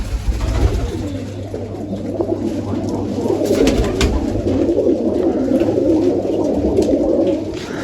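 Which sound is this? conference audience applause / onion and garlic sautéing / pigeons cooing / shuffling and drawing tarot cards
pigeons cooing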